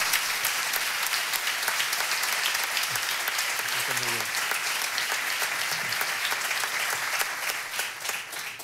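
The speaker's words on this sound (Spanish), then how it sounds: "pido un aplauso conjunto para los tres ponentes" Applause from the audience at a conference for three panel speakers, a dense, bright patter of many hands clapping steadily for several seconds, briefly overlaid by a voice, then easing slightly at the end.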